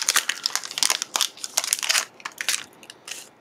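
A trading card pack wrapper from a Street Fighter card set crinkling and crackling as it is torn open, in close, busy bursts of crisp plastic rustling.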